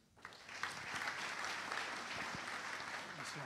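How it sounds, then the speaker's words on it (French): Conference audience applauding, a dense burst of clapping from a crowd filling the room at steady loudness for a few seconds, close and continuous. "Un grand applaudissement à Mobotix"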